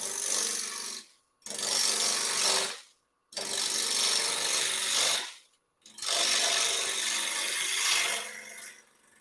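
A wood lathe cutting the corners off a seasoned, waxed chunk of Bradford pear, loud rasping tool contact in three long passes separated by brief pauses.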